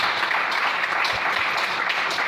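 Applause from a church congregation acclaiming the Lord: steady, dense clapping filling the room, fairly loud and continuous throughout with no break.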